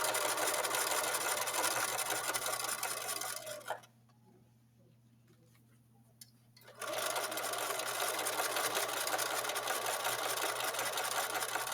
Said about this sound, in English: And I continue sewing straight until I reach the stitching where I sewed my pocket on